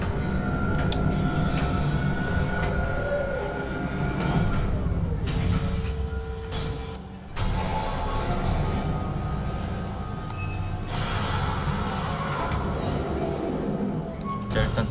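A tram in the video game Dead Space remake rolls along rails with a steady rumble and faint wheel squeals, broken by brief sharp clicks and a short dip midway.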